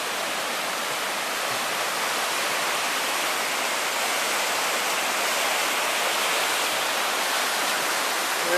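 River running high under a bridge downstream from a dam after four days of rain, a steady loud broadband rush of water with no break, heard close and alone.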